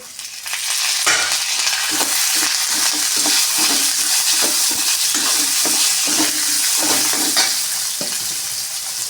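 Coconut and curry leaves fry in a pan for vallarai keerai chutney, giving a loud, continuous sizzle broken by repeated scraping stirs.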